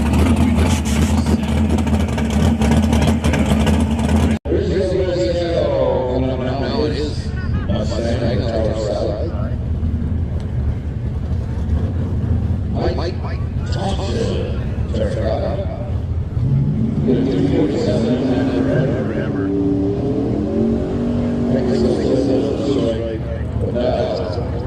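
Heads-up drag racing cars at the line and down the strip, a loud engine roar that drops to a rumbling idle and then builds again, with a commentator talking over it throughout.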